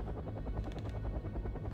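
Helicopters touching down in the war strategy game Wargame Red Dragon, a steady low rotor drone with rhythmic thudding, moderately quiet and continuous throughout.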